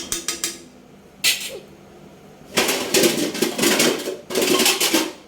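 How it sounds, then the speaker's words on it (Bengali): A metal spoon scraping and clinking in a pot of pangas fish curry, several short clatters followed by louder rattling as a lid is set on the pot, close and without talk. "একটু নাড়াচাড়া দিয়ে আমরা ঢাকনা দিয়ে ঢেকে রাখবো দশ মিনিট"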